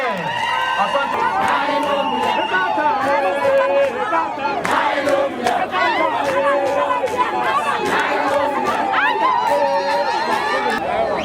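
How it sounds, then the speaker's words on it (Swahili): A dense outdoor crowd in Kisii cheers and ululates at a presidential ribbon-cutting. Shrill trilling ululations ride over steady loud babble and shouting for the whole stretch. "wananchi shangwe na vigelegele"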